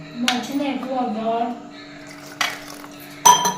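Curd is mixed into chopped vegetables in a bowl for appe batter, with soft stirring and a few bright spoon clinks against the bowl while someone talks.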